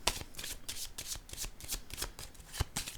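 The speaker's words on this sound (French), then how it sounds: "Je vais déposer une carte sur elle," Tarot cards being shuffled and handled for a reading, a rapid string of crisp papery flicks and riffles close by, steady for about three seconds with no voices.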